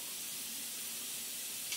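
An airbrush fed by an on-demand compressor sprays in a steady, even hiss of air and paint, close and continuous without a break.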